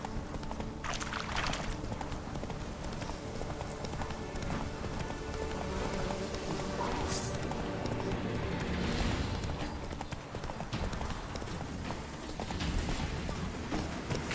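Roach the horse galloping in a video game, a steady rhythmic clip-clop of hooves that keeps running throughout at moderate volume.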